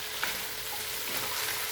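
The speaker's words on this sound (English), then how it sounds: "you can see it's been frying here with the onions for 12 minutes" Meat and onions crackle and sizzle steadily in a hot pan, a close, continuous hiss with small pops and no voices.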